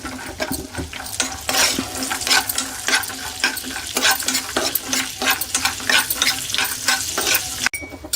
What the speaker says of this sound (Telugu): మనం పిస్తాలు మంచిగా కొంచెం రోస్ట్ చేసుకోవాలి